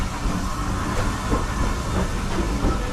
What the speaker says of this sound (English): At the back we've got Newstead. I'll never get bored of seeing this little loco.